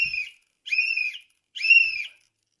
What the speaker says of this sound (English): That's the ICE alert whistle.